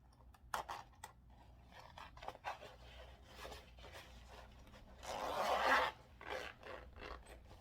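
Zipper puller being drawn along the zipper of a homemade waterproof flip flop bag, giving short scratchy rasps with a longer, louder zipping run in the middle, close and alone with no talk.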